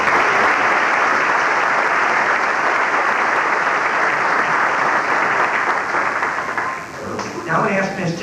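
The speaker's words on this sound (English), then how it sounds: "So why don't you give them a nice round of applause." Audience applause at a sixth grade spring school concert, a broad sustained wash of clapping from the crowd that thins slightly near the end as a voice starts over it.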